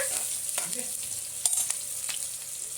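Onions fry with mustard seeds and cumin in a pan, giving a steady, close hiss with small pops and crackles and no voices.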